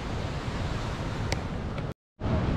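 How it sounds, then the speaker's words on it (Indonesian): Ocean surf at Pandawa Beach in Bali washes in a steady, loud roar with wind buffeting the microphone, cut by a short dropout before the noise resumes. "Inilah Pantai Pandawa, bro. Bagus pantai ini."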